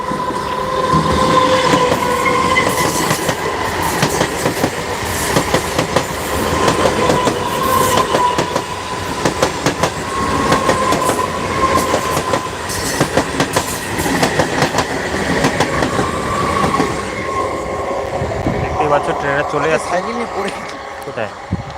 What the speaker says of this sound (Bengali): তো দেখো বন্ধুরা ট্রেনটা আসছে